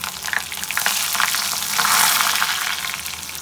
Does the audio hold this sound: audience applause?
no